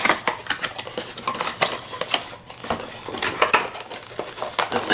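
Metal pieces from a GSI Outdoors camping cookware set clatter and clink nonstop at close range as they are unpacked and handled, with dense overlapping knocks and scrapes, no talking.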